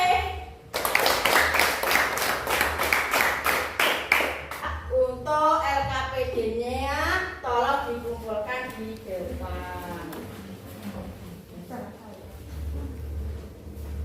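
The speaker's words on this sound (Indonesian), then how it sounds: "Kita beri tepuk tangan untuk kelompok C." A classroom of students claps in a brisk, steady burst of applause lasting a few seconds, followed by a voice speaking.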